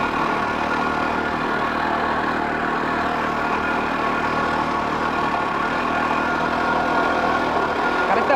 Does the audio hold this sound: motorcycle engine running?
yes